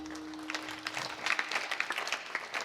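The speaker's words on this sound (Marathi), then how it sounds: "फरक नसेल म्हणून टाळ्या वाजल्या बघा." An audience at a Marathi kirtan in Dhorewadi claps in a short, fairly faint burst of applause that builds slightly over a couple of seconds.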